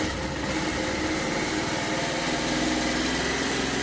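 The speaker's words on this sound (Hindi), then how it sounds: "बाइक अपने आप गर्म हो रही है" A Pulsar 220 motorcycle engine idles steadily while warming up, a close, continuous low thrum with an even, slightly raspy buzz and no talking.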